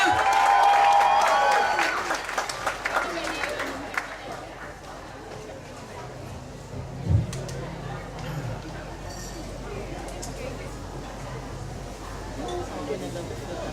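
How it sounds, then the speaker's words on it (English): An audience at a poetry slam during the Ubud Writers & Readers Festival claps loudly for about two seconds, then the applause thins and fades into quieter crowd murmur and some talking. "Give applause to Jesse Oliver"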